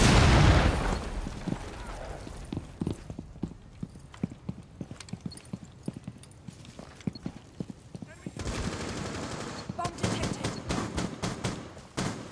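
Gunfire in the video game Rainbow Six Siege during a Terrorist Hunt match, heard as a string of sharp shots and bursts at uneven intervals, with a denser volley near the end and talk over the action.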